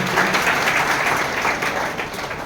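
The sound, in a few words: audience applause welcoming a guest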